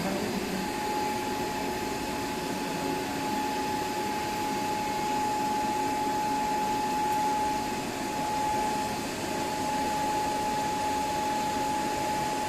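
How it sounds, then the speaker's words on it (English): A prime mover running steadily at 1500 rpm synchronous speed, driving a salient pole alternator in a lab setting: a continuous loud machine hum and whine with a steady tone, constant throughout. "Whether our prime mover is rotating with the synchronous speed, that is 1500 rpm"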